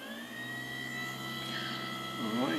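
An HP 2605 laser printer motor runs fully on at about 4000 RPM with no speed regulation, giving a steady whine with strong tonal harmonics; a faint voice and a rising pitch sweep come in near the end.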